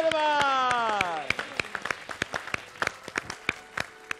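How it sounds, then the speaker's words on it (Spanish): After a sung line, a small audience gives scattered, sparse clapping for someone dressed as Spider-Man on a TV studio stage, individual claps distinct and irregular. "¡Un aplauso a Spiderman!"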